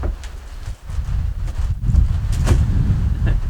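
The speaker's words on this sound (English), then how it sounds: "it's pretty windy today" Steady wind gusting against a microphone, a low, rough rumble that swells and buffets throughout, with no one speaking.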